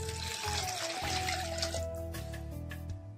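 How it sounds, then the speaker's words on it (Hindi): Water poured into a pot of saag as it cooks, a steady close pouring and trickling sound that runs unbroken for a few seconds over a low background hum, with no talking. "अच्छी तरीके से पकाने के बाद ना अब इसमें हम पानी डाल देंगे"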